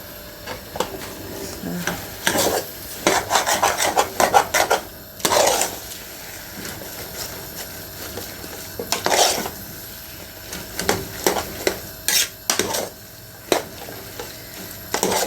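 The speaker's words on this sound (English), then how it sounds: "while it's frying at the bottom, I'm just turning it around, making sure that all the pasta is coated with my sauce" Minced meat and vegetable spaghetti stir-fried over high heat in a hot pan, with repeated bursts of scraping and clattering from the utensil against the pan over a faint background sizzle and no voices.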